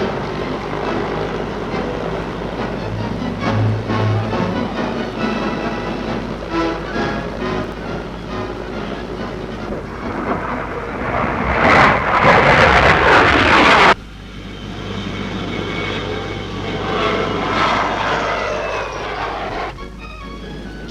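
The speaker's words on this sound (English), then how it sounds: "Foreign visitors are especially impressed by the 40-seater Hermes airliner." A 40-seater Hermes airliner flies past at the Farnborough air show, its piston-propeller drone steady and loud under crowd ambience. It swells to a close roar around the middle, then drops off sharply.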